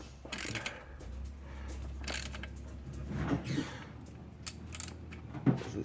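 A ratchet tightens the alternator bracket bushing bolt on a 2001 Subaru Legacy, giving soft, close clicking and creaking in short strokes at a quiet level.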